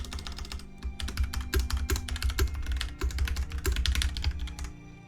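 Rapid, steady typing on a computer keyboard, close and clear, with dense clicking keystrokes and a low hum beneath.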